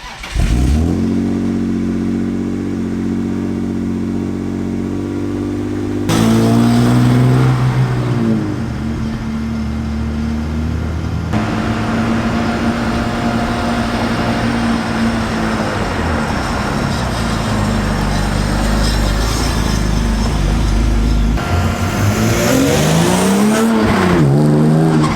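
A barn-find BMW E36 accelerating hard on a drive, its engine revving up through the gears in loud, continuous pulls with rising pitch, punctuated by tire squeal and skidding, close and steady throughout with no talking.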